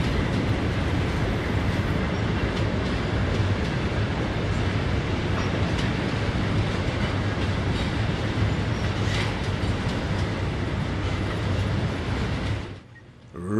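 A Richmond, Fredericksburg and Potomac locomotive train passes at West Palm Beach, South Florida, in 1970 with a steady heavy rumble and rattling wheel clatter that runs continuously before cutting off abruptly near the end.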